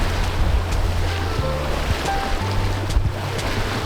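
A boat cruises over ocean waves with its engine throttled back to a low, steady hum, while surf washes and wind buffets the microphone throughout.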